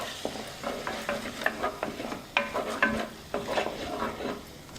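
Curry leaves, turmeric and chili powder stirred into fried onion paste in a pan, with repeated scraping strokes of a spoon under a constant soft sizzle, close and fairly busy throughout.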